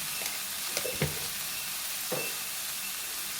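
Tomato moong dal curry being stirred in a pan over steady sizzling, with a few distinct scrapes or clinks of the utensil against the pan, close and fairly quiet, with no voices.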